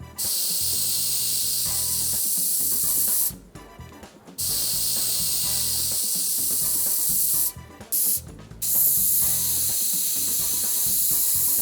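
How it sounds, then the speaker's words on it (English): Continuous loud hissing spray from an air spray gun spraying cocoa butter into a chocolate mold, stopping briefly twice before resuming, with no one speaking. "I'm going to spray the cocoa butter into the cavity of the mold"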